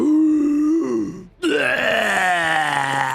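A human voice imitates a flying, wing-flapping creature belching a gout of flame, a deep throaty roaring burp that breaks off briefly and then surges back as a loud, rasping, sustained growl, close to the microphone.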